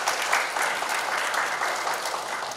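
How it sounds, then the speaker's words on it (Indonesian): Audience in a hall applauding a doctoral candidate at a doctoral promotion exam, dense continuous clapping at close range throughout, with no talk over it. "Berikan tepuk tangan dulu untuk Promovendus."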